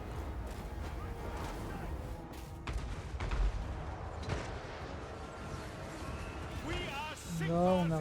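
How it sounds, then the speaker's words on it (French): Mortar artillery fires during an Empire campaign battle in Total War Warhammer 3, heard as a few dull thumping booms set against a dense battle din, with someone commenting over it. "Le mortier tire, du coup il devrait s'avancer."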